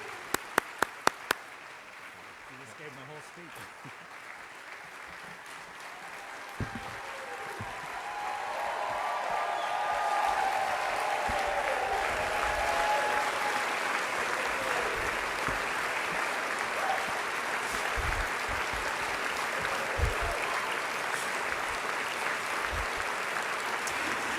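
An audience at the City Club applauds to welcome Eric Gordon, CEO of Cleveland Metropolitan School District, at his final State of the Schools address. A few sharp claps come first, then sustained, even clapping from a large crowd swells and holds.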